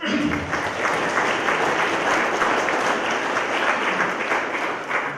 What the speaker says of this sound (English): Can we give that group a round of applause?